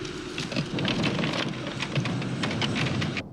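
Steady rain from an electric storm pours down with rumbling thunder underneath, a dense continuous wash of drops throughout that cuts off abruptly near the end.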